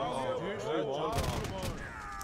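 Hand cannoneers fire in Age of Empires II: Definitive Edition, Dynasties of India, a cluster of crackling gunpowder shots bursting out partway through over sustained tonal game sounds, loud and close.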